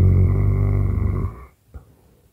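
A voice imitates a dog's growl with a low, rough, sustained rumble, close and loud, that stops abruptly and is followed by a brief softer grunt.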